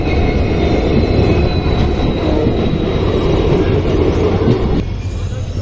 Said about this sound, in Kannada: ನೋಡ್ರಿ ಟ್ರೈನ್ ಫೈನಲಿ ಕೃಷ್ಣರಾಜನಗರಕ್ಕೆ ಬಂದೈತಿ.